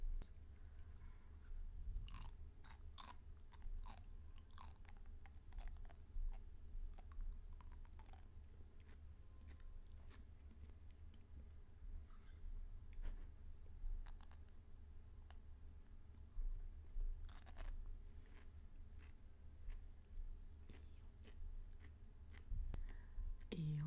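Okinawan sea grapes are chewed close to the microphone, giving soft, quiet popping and crunching bites in an irregular rhythm over a low background rumble.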